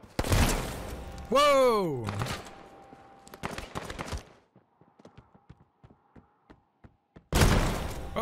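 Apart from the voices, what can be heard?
gunshots in a video game (Surviv.io/H1Z1)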